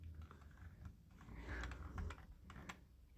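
A computer keyboard and mouse tick softly in a few scattered clicks and taps while someone shops online, very quiet and close, with no one speaking.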